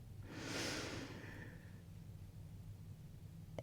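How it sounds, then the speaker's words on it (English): A single slow, deep breath drawn in through the nose, soft and close, swelling over about a second and then fading into quiet. "take a deep breath in"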